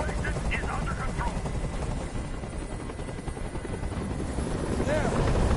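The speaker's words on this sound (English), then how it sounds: "I can't stand that noise anymore. Tell that helicopter to get out of here." A helicopter hovers overhead in the video game Detroit: Become Human. Its steady, loud rotor thrum runs unbroken from start to finish.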